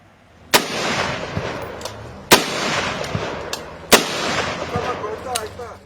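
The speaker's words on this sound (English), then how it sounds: "Now, they spend their time doing target practice instead of farming." Gunfire from farm workers' target practice in rural Mexico's avocado-growing region, three sharp, loud shots spaced about two seconds apart, each echoing over a constant outdoor background.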